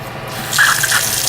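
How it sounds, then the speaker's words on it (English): Water drips and runs from a leaking Delta kitchen faucet, leaking from under the handle, a close, steady wet trickle that picks up partway through. "it's leaking from under the handle"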